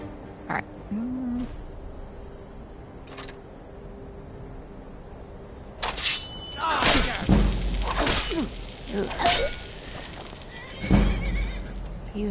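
A horse in Skyrim gives a loud whinny amid game sounds of hooves, swooshes and shattering clatter, with someone talking over parts of it.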